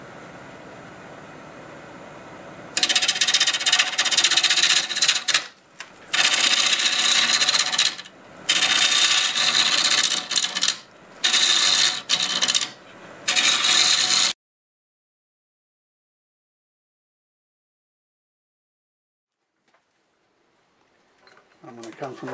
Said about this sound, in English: we are going to start cutting